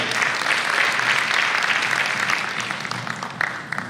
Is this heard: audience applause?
yes